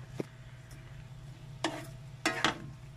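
A spoon scrapes and clicks a few times against a pan of cooking food, faint and close, over a low steady hum of gentle sizzling.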